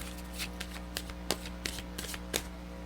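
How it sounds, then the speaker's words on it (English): A deck of tarot cards is shuffled in several quick riffling bursts, close by and crisp, with short pauses between them. "One card, one more shuffle."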